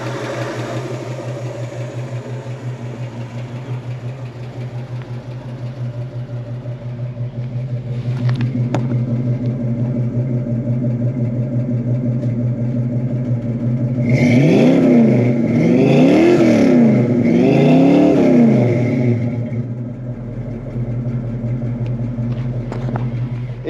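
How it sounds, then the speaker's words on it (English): A 1966 Ford Mustang's 289 V8 idles with a steady low rumble, then gets revved in three quick swells before settling back to idle, close and alone. "let's listen to the engine."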